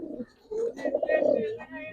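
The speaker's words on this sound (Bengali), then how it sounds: "এইটা পুরনো জাতের বাঘা কবুতর" Old-breed Bagha pigeons coo softly in a loft, a low murmuring burble that rises and falls over two seconds, close by and fairly quiet.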